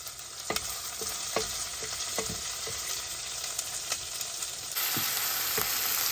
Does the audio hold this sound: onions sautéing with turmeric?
yes